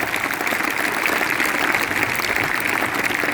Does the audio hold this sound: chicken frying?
no